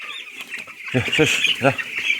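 Chickens cluck inside a poultry farm on a cold, foggy morning. Several close, loud clucks come in bursts over a dense background of other birds.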